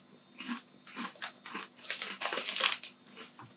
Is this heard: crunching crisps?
yes